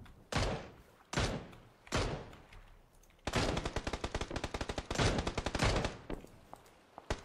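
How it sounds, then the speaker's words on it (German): Bursts of automatic rifle fire in PUBG, a few short volleys followed by a long rapid string of close, loud shots, with no talking. "Was schießt denn hier so penetrös?"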